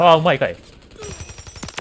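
Rapid, moderately loud gunshots crackle in a quick string in Call of Duty: Modern Warfare III, PS5 beta, right after someone speaks briefly.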